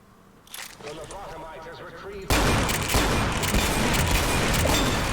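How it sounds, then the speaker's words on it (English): Magnum revolver fire in Fallout: New Vegas, with loud gunshots and bursts of gunfire dominating the second half after a stretch of game noise and a voice talking. "Magnum shot, magnum shot."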